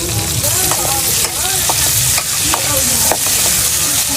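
Mustard seeds, cumin, onions and curry leaves sizzle loudly in hot oil, cooked for a quail meat curry. A constant close frying hiss carries repeated scraping stirs of a spoon against the pan.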